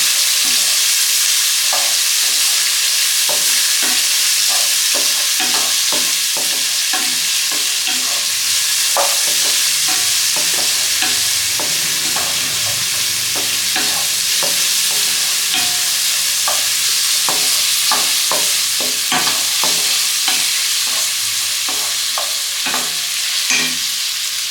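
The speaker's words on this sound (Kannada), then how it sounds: "ಈರುಳ್ಳಿ ಮತ್ತು ಟೊಮೊಟೊ ಬ್ರೌನ್ ಕಲರ್ ಬರೋ ತನಕನೂ ಫ್ರೈ ಮಾಡ್ಕೋಬೇಕು." Onion and tomato fry in a pan with a loud, steady sizzle throughout, while a spatula clicks and scrapes against the metal in irregular strokes.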